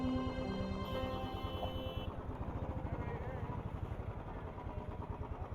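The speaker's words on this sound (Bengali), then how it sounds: "বাইকটা পার্কিং করে দিয়ে এখানে।" Motorcycle engine idling near a temple in Puri during parking, a close, rapid, even putter that continues through the whole stretch beneath a faint whine.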